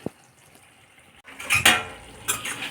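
Chilli powder, coriander powder and garam masala are stirred together in a pan, heard as a sharp metal clink followed by scraping spoon strokes and a soft sizzle, close and short, without speech.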